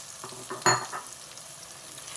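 Marinated chicken drops into a pan with ginger-garlic paste, giving a short sharp sizzle and stirring scrape that fades to a soft background fry.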